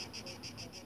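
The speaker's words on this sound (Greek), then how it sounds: "Ο Τζίτζικας φυρίζει" A cicada buzzes in summer heat at Xigkia beach on Zakynthos, a close, steady rasping drone pulsing in a quick, even rhythm of about five beats per second.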